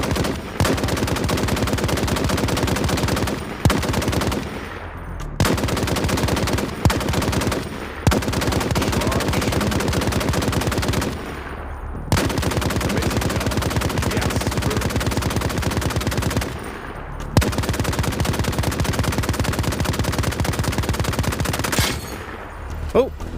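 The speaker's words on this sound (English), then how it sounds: "Grab that minigun and shoot as many targets as you can in 30 seconds." Minigun in the VR shooter Zero Caliber firing at range targets, long loud sustained bursts of rapid fire broken by short pauses, dominating throughout.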